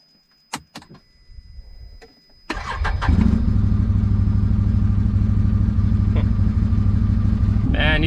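Can-Am Maverick Sport 1000 side-by-side: a couple of door or latch clunks and rustling, then the engine cranks and catches, settling into a loud, steady, close running rumble.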